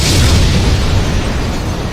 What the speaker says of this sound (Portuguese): uma explosão repentina o atinge diretamente